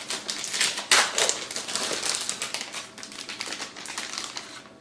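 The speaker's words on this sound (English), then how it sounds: "the last thing that I'm going to cut up, and I can throw the nuts in and we'll be all done, is going to be this turkey" A knife cutting turkey into small squares for a salad on a board, a dense run of quick close tapping and crunchy slicing sounds, fairly loud and without talk.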